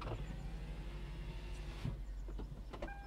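Power windows on a 20-year-old Lexus SC430 hum upward in a steady motor whine over a low idling drone, ending with a few faint clicks, with no talk.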